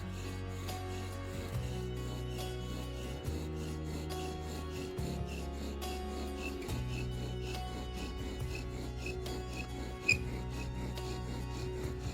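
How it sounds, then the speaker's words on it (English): Bow drill grinding on a wooden fireboard in a friction fire method, a steady rasping rub that shifts pitch with each back-and-forth stroke of the bow every couple of seconds, close and continuous with no talk. "Once you apply some downward pressure, you'll begin to grind off dust from both the drill and the board."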